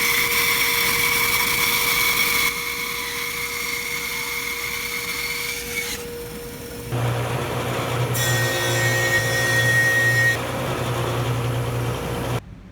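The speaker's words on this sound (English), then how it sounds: "Now I resaw and plane some 1/2-inch boards" Machine noise from a power saw resawing and a planer planing 1/2-inch wooden boards, running steadily, with pitch shifts as the cut changes and a low hum throughout; no talking.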